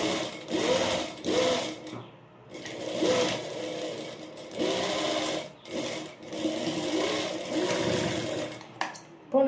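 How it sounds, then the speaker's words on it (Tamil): A sewing machine stitches two layers of a child's jabla garment in a tailoring class, running in bursts of steady whirring with short pauses between them, close and fairly loud. "வச்சுட்டு எங்கே வருதோ அதிலேருந்து ஸ்டிச் பண்ண ஸ்டார்ட் பண்ணுறேன் நான்."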